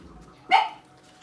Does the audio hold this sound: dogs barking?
yes